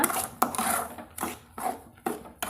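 A spoon scrapes and stirs around a pan as sugar is mixed into cassava kesari, a series of rhythmic clinking, rubbing strokes about every half second, close and moderately loud, with no voices.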